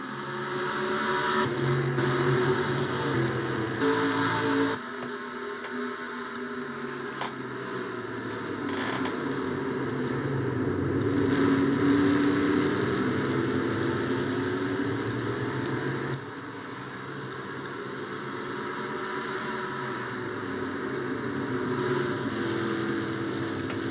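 Race cars in a racing video game accelerate down a long straightaway, a steady loud engine drone with shifting pitch and occasional gear-change dips, continuous throughout without speech.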